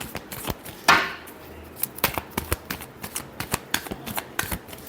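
Close hand-shuffling of a tarot deck: a sharp sliding swipe near the start, then a quick, even series of crisp card snaps and flicks.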